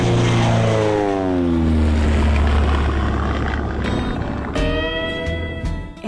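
A propeller aeroplane flies past, its droning engine tone sliding downward as it passes, loud and steady, then thinning into a rougher, lower hum near the end.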